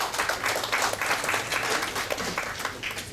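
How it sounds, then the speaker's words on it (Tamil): A hall full of people clapping for a Rotary club secretary called to the stage at a Rotary event in India, a dense, continuous roar of applause, close and loud throughout. "உங்களின் அரங்கு நிறைந்த கரகோஷத்தோடு"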